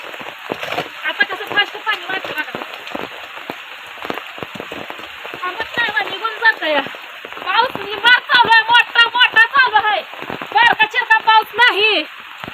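Heavy monsoon rain pours outside a house where rainwater is flooding in, a dense continuous hiss with a voice talking over it throughout.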